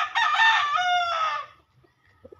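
A gamefowl rooster on a chicken farm gives one loud, close crow lasting over a second, its rising and falling call standing clear before faint clucks and background noise follow.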